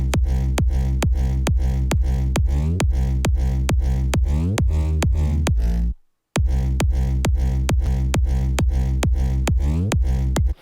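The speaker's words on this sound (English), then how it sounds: "So altogether the kick sounds like this." Layered electronic festival kick drum with a deep sub bass layer, thumping in a steady four-on-the-floor pulse, loud and alone, with a brief dropout midway before the beats resume.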